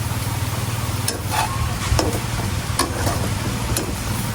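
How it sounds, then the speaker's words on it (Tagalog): Garlic, onion and ginger sauté in a pan with a continuous sizzle, broken by several sharp stirring scrapes and clicks, close and moderately loud over a low background hum. "akin na pong nagisa itong mga bawang, sibuyas at luya"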